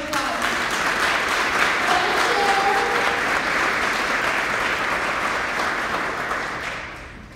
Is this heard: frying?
no